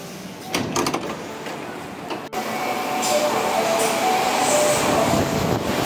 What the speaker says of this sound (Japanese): 阪急 8304F の普通高槻市行きで動物園前に向かいます。